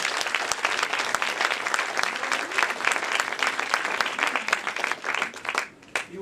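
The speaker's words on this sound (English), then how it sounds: "let's give them a round of applause" Audience applause welcoming presenters Dale Hayward and Sylvie Trouvé to a lecture stage, dense steady clapping from a large crowd that fades briefly near the end before picking up again.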